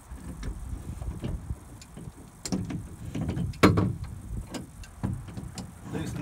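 Channel lock pliers loosening the bailer on a Sunfish sailboat hull, a series of close metallic clicks, scrapes and knocks at an irregular rhythm, with no talking.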